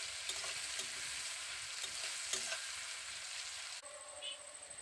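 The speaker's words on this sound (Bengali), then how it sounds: "পেঁয়াজটাকে আমি ভালো করে একটু ভেজে নিচ্ছি প্রথমে।" Sliced onion sizzles steadily in hot oil in a pan while cooking a potato and soy curry, a dense continuous frying hiss with occasional faint stirring scrapes, close and fairly quiet.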